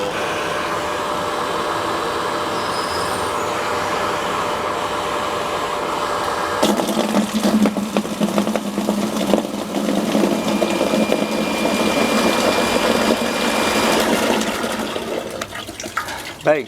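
Electric household water pump running after being switched back on, a loud steady motor hum and whir that grows rougher and busier with rushing water partway through, close by and with no talk.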